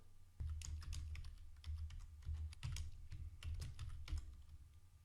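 Close, steady clicking of a computer keyboard, short runs of keystrokes with brief pauses and no talk over them.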